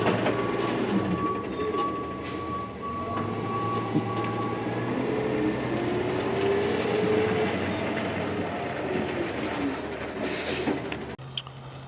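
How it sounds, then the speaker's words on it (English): A garbage truck rumbling past outside with a steady low engine drone and clattering, ending in a sharp air brake hiss near the end, with no talk. "pause a bit for the garbage truck"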